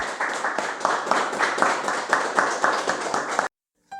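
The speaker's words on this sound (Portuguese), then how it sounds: "Vamos aplaudir a nossa salvação, aplaudir o Senhor Jesus agora." A church congregation claps in a dense, rhythmic burst of applause that runs loudly for several seconds and then cuts off abruptly.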